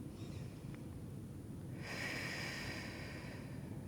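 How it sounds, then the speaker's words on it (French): One deep, slow breath taken during a mobility and stretching session, a soft airy rush that begins partway through and carries on steadily, close but faint against a quiet background. "Dernière grande respiration."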